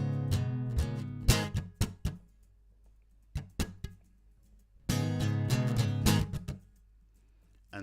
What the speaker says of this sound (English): you'll then need to mute the strings while strumming them